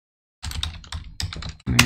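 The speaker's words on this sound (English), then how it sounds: "Okay, and then type my password." Quick bursts of keystrokes as a password is typed on a computer keyboard, close and fairly loud, with a short pause before a final cluster of clicks.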